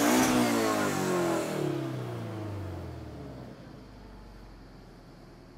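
A 2012 Toyota GT 86 engine rises loudly at first with a falling tonal sweep, then settles into a steadier, quieter drone as the car drives, with no talking.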